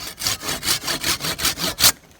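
A hand saw cuts through a teak tree branch at an angle in about eight quick, even back-and-forth strokes. The rasping is close and loud, ending in a sharper final stroke before it stops, with no talking.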